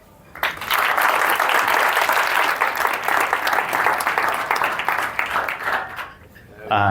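An audience bursts into sustained, loud applause to welcome speaker Bruce Friedrich at an event, dense clapping from many hands swelling quickly, holding steady for several seconds, then dying away.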